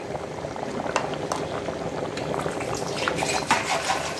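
Rice boiling in a pot with ground coriander and cumin stirred in, a steady close bubbling simmer with small pops and spits throughout, no voices.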